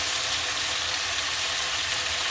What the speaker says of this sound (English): this chicken, when you're browning it, it is being enhanced with the flavors of the garlic and the onion